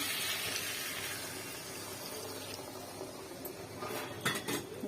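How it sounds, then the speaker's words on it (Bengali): Water is added to a pan of potato, pointed gourd and prawn curry, producing a steady, close sizzling hiss throughout, with faint clinks of a utensil near the end. "জল দিয়ে দেবো। এবার এটা 5 মিনিটের জন্য একটু সেদ্ধ হতে ঢাকা দিয়ে দেবো।"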